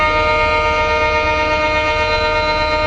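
Hassan to Yeshwanthpur Intercity Superfast Express train running, heard as a loud, steady tonal hum with a constant low rumble throughout, close by and with no voices.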